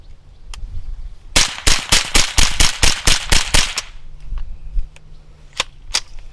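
Semi-automatic rifle firing CCI Quiet low-energy ammunition: a rapid string of about a dozen sharp, fairly subdued cracks in quick, even succession, then a few scattered mechanical clicks and a couple of isolated shots afterward, with no talk.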